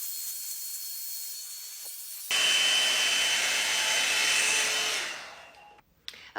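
A hair dryer blows steadily at close range for about three seconds, a loud broadband whoosh switching on abruptly and cutting off, while styling big, voluminous hair with a volumizing product.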